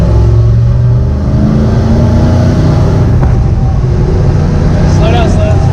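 A manual Ford Mustang accelerates with a steady, loud low engine drone that climbs in pitch, while voices talk over it inside the car.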